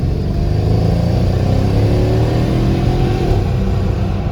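A 2013 Mercedes-Benz GL63 AMG with 120,000 miles and a hard-shifting transmission accelerates, its engine giving a loud, steady, deep droning roar heard from inside the cabin.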